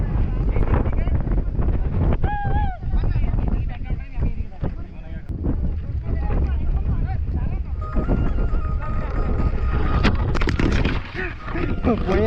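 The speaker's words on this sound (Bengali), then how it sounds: "সুন্দর হাওয়া আসছে।" Strong wind blows steadily in the hills of Darjeeling, buffeting the microphone with a constant low roar, while people talk close by throughout.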